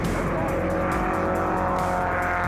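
Onboard sound of a BP Porsche 911R race car engine chasing a Mercedes, a steady loud roar with continuous drone and no pauses, heard close from inside the car.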